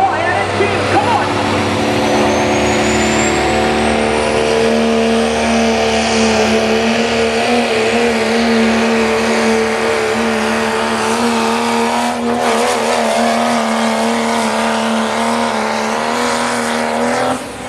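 Dodge Ram diesel truck named All Attitude at a limited pro diesel truck pull in Mt. Vernon, Ohio, a loud sustained engine drone with steady harmonic pitch under an announcer's voice throughout.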